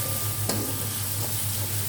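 Curry spice paste and spring onions stir-fry in a hot pan for a Betawi pastel filling, giving a continuous close sizzle with a single sharp clink of stirring partway through.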